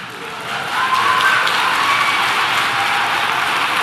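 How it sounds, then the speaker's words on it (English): An audience claps at a talk, a soft patter that swells after the first half-second into steady, moderately loud clapping that continues evenly to the end. "You're clapping for that?"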